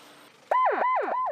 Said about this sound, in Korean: 공항 인근 민가가 밀집한 지역에서는 총 대신 사이렌을 울려 새를 쫓는데요